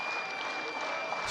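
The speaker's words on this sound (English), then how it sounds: "and the crowd starts to pick it up" A baseball crowd at an Auburn versus Kentucky game cheers and applauds in a steady, dense roar that fills the whole moment, with a faint steady tone running through it.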